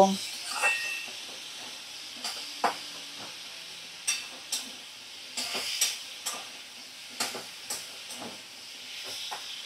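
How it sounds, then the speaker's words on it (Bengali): Fish curry masala for a rui and katla curry being stir-fried on medium flame, a soft continuous sizzle broken by repeated sharp scraping strokes of the spatula against the pan, close and moderate in level. "তো এবারে মিডিয়ামে করে আমি ভালো করে 2 থেকে 3 মিনিট কষিয়ে রান্নাটা করে নেব"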